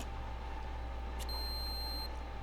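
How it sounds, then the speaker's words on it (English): A magnetic card reader in Resident Evil 0 gives a single short electronic beep as a door lock is released, a steady tone standing alone over a low hum. "Beep. The lock has been released."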